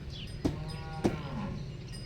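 A buffalo being led off to water on a rural Marathi farm lets out a couple of low, short moos, spaced apart and fairly close over steady ambient background noise.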